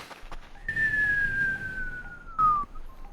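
A voice imitates the whistle of a pee stream with a thin, sustained whistled tone that slides slowly downward in pitch, then a short breathy burst at the end.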